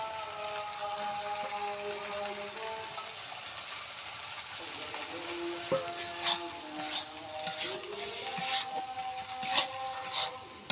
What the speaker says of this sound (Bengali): মশলা থেকে তেল ছাড়ে দিয়েছে। এখন দেখুন ভাজা শুটকি মাছটা দিয়ে দেবো।